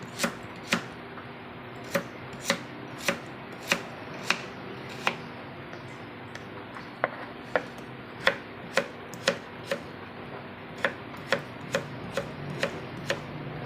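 Knife chopping a medium potato into small cubes on a cutting board, sharp evenly spaced knocks about one per half second, close and distinct over faint room noise.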